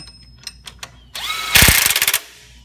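A power tool drives a 15mm idler arm bolt during an AC tensioner and belt job on a GM truck, with light clicks and handling noises first, then a loud close burst of ratcheting impacts that stops abruptly.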